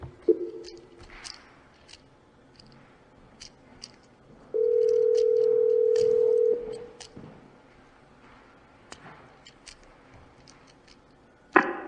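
A speakerphone at a board meeting gives a single steady dial tone of about two seconds after a number is dialed, loud against a quiet room with scattered clicks and light shuffling before and after.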